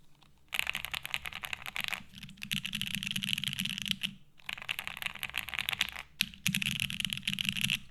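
Fast typing on a gummy O-ring mount mechanical keyboard, dense bursts of clacky keystrokes broken by short pauses, close and clear with no talking.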